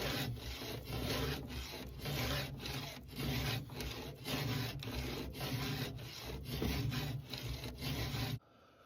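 Rhythmic rasping strokes of a round file with a handle sharpening a chainsaw chain, about a dozen even back-and-forth scrapes, close and clear before stopping.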